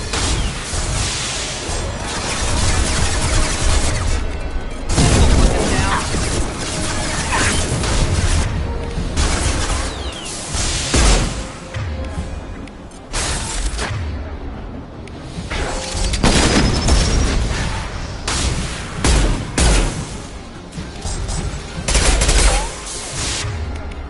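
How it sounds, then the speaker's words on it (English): Video-game explosions and bursts of gunfire, with booming blasts, rapid machine-gun fire and whooshes filling the scene loudly and continuously throughout, with no clear talk. "Explosion!"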